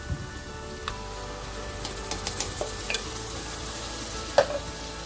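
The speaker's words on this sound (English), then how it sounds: "the dried red chilies have to gently simmer as well" Coconut dry chili prawn masala with garlic and dried red chilies simmering in a pan, a soft steady sizzle broken by scattered scraping taps of a spoon stirring, with one sharper clink near the end.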